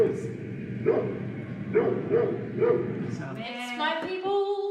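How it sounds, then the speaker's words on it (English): A dog barks several times at a distance, single woofs spaced about a second apart under a steady background hum, followed by people talking. "That's actually a dog. That's a dog, not a wolf."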